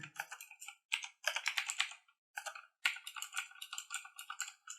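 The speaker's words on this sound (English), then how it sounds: "I'm going to type in the command here." A computer keyboard is typed on in quick, close, crisp clicking bursts separated by short pauses, as a command is entered; no voices are heard.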